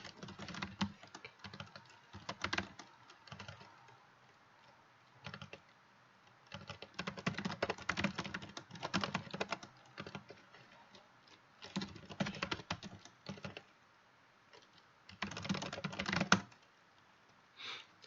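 Quiet computer keyboard typing comes in clustered bursts of soft clicks separated by short pauses, close to the microphone, with no talking.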